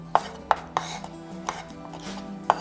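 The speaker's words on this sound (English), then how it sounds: "And I've got some black olives, and actually these don't have stones, which is perfect for this, because I'm also going to slice them up" A knife chopping pitted black olives on a board, crisp separate taps landing in an uneven rhythm, six or so distinct cuts close up with no speech.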